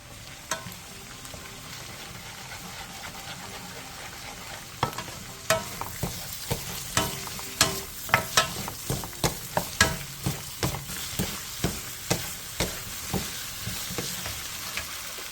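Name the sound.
stir-frying sausages with ketchup, gochujang, corn syrup, green onion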